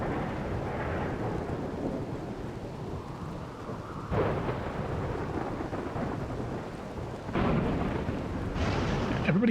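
A video-game thunderstorm in RimWorld with steady rain hiss and several sharp thunder cracks, the loudest near the middle and the end, filling the scene without voices.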